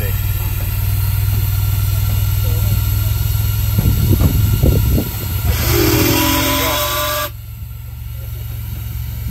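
Stanley 606 steam car with its engine hissing steam, leaving a Goodwood Breakfast Club event; a steady loud hiss runs throughout, with a brighter burst of steam midway, under a voice talking.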